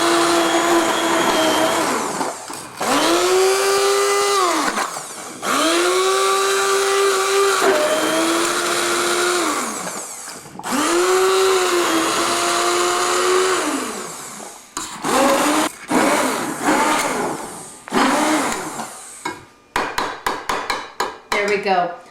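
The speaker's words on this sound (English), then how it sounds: "These handheld blenders are pure genius." A handheld blender whirs through coconut kabocha soup with almonds and coconut milk, running in several long loud bursts separated by short pauses, then a rapid series of quick stop-start pulses at the end.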